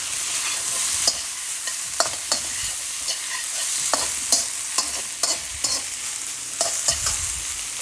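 Rice, prawns and peas are stir-fried in a wok, with a steady bright sizzle broken by regular scraping and tossing knocks from the stirring, close and without speech.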